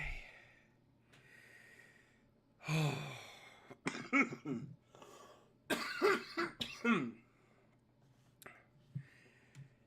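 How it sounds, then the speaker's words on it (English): A person in a coughing fit, with repeated harsh close coughs and throat-clearing in bursts, separated by heavy breaths and a relieved sigh. "Sorry for the freaking coughing fit"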